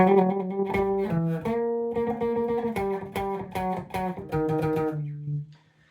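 Bass guitar notes played melodically, with quick hammered and pulled note changes in a steady rhythm, clear and alone, ending in a sustained tone that fades.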